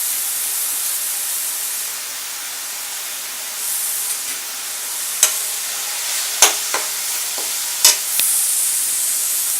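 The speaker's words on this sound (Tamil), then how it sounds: "பாருங்கள், மசாலாலாம் வதங்கிக்கிட்டு இருக்கு." Garam masala, turmeric and a mixed masala sauté in a pan with a continuous close hiss and sizzle, while a utensil stirs and scrapes with several sharp clicks toward the end; no one talks.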